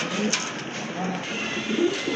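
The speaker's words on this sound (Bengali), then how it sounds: "এটা হচ্ছে আপনার রেড ডেনিশের নর, পাকিস্তানি ব্লাড, মোটা ঠোঁটের কবুতর" A huge male Red Danish pigeon of Pakistani bloodline with a thick beak coos in low, throaty bursts nearby, over a steady background hum.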